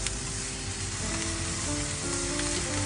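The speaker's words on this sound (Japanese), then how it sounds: "ごま油を熱して、ピーマンを炒めるよ。" Green peppers stir-fry in hot sesame oil, a dense continuous sizzle held at an even, fairly loud level throughout, close up and without any speech.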